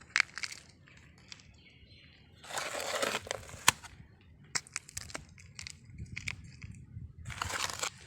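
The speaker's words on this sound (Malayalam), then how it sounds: "ഇതിൻ്റെ വശങ്ങളിൽ നമുക്ക് ആ പോട്ടി ഒന്ന് ഫില്ല് ചെയ്ത് കൊടുക്കാം" Potting mix is pressed and filled around a begonia in a pot, giving scattered soft crunching and rustling bursts with short gritty scrapes and quiet gaps between.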